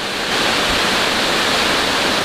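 Steady, dense roar of a multi-tiered waterfall at Kitomoling, Tambunan, broadband and continuous, close and loud throughout with no voices.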